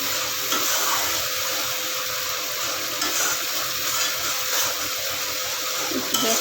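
Cashew nut paste sautéing in a pan for a pointed gourd curry, a dense continuous hiss and crackle that stays even and close throughout.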